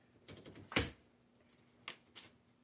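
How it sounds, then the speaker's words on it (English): A 1931 Burroughs typewriter clacks through a few sparse keystrokes, one louder strike followed by pauses and two more softer taps, close and otherwise quiet. "let's go ahead and do our typing demo"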